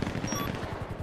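Rapid bursts of police gunfire crack out in quick succession during a street confrontation, several sharp shots close together over a rough, noisy background.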